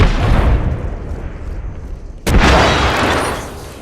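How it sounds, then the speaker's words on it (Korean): A grenade goes off in the Apex Legends video game, a loud sharp boom followed by a rumbling decay, heard after a stretch of busy game noise. "수류탄 한 발 먹어라"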